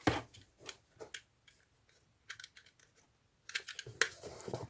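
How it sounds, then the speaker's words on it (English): A knife cutting into a journal cover, with sharp close scratchy slicing strokes in short irregular bursts separated by quiet pauses. "Maybe I should cut this with a knife"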